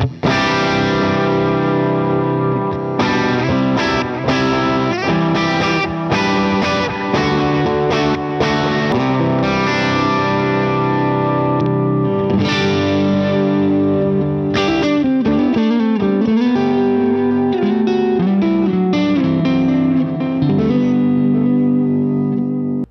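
Electric guitar run through a combination of effects with distortion, reverb and chorus, playing a loud, close riff of rhythmic chords and ringing notes for the full length, with no talking.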